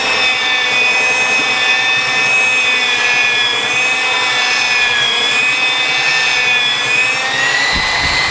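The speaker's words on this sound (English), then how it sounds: "I'm going to sand this countertop now" Power sander working a countertop on a workbench, a steady close whine with a high buzzing hum that runs without a break for the whole stretch.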